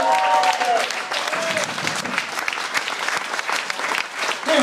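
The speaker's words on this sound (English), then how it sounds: "Give him a round of applause" Audience applause at a British Blues Award presentation, a steady, dense wash of clapping from a live crowd that holds throughout with a brief voice at the start and end.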